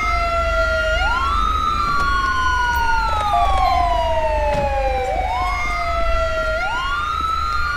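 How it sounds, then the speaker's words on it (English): A police siren in the LSPDFR police game wails up and down in long repeating sweeps, loud and continuous over a low engine rumble, with no talk. "they're gonna run their siren the whole entire time"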